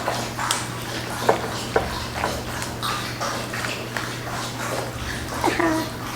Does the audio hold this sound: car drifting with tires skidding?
no